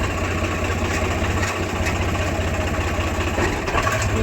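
A Swaraj 744 tractor engine idles steadily nearby, a low rhythmic chugging throbbing evenly throughout with no voices.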